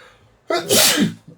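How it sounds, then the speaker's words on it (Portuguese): A single close, loud sneeze bursts out after a brief quiet pause, followed by a small breathy sound. "Peraí que eu vou espirrar."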